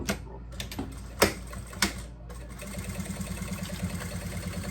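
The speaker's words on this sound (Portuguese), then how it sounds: "E agora eu venho costurando com o meu pezinho calcador." A domestic sewing machine runs steadily as fabric is stitched under a presser foot for a double wine holder, giving a continuous mechanical whir with a fast regular pulse and a few sharper clacks at the start.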